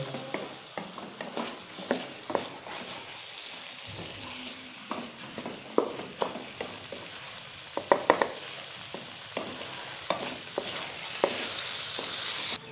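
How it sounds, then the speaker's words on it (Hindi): Mash daal is stirred and fried in a pan, with a soft sizzle under repeated scraping and clattering strokes of a spoon at an uneven rhythm. "तो दाल को अच्छे से करेंगे मिक्स और इसको करेंगे फ्राई।"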